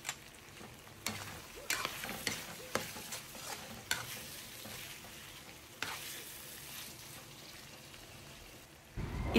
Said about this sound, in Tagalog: Takpan at hayaan natin kuluan.